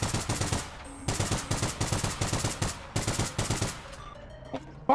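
Automatic gunfire in the online shooter APB Reloaded: three rapid bursts of close, loud rounds separated by brief pauses, followed by quieter game sounds.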